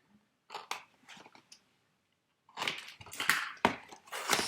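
Scissors cut open the plastic package of a Diamond Dotz kit: two or three brief, close crinkling snips, a short pause, then a louder run of rustling, crunching cuts through the wrapping.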